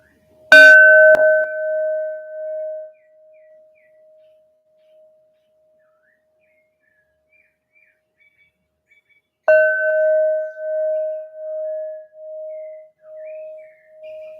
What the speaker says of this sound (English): those bells were very clear